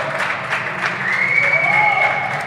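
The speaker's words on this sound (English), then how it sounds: "Can hear the crowd gets quite loud when Deerwold wins the point" A crowd at a professional squash semi-final in Namibia applauds a won point with sustained clapping, while a voice speaks over it partway through.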